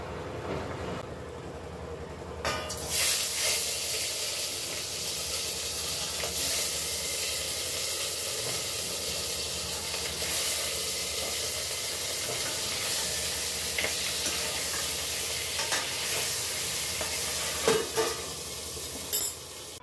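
Muri ghonto curry sizzles steadily in hot oil while a utensil scrapes and stirs against a metal wok at intervals, close and continuous.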